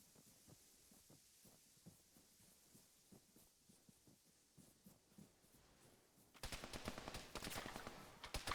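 Gunfire in a military shooter game: a sparse run of distant single shots thudding at uneven intervals, then a sudden loud, close burst of rapid overlapping fire for the last couple of seconds.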